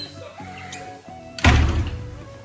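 A hotel room door thuds shut with a solid, close, fairly loud impact and a brief rattle afterward, set against quiet room tone.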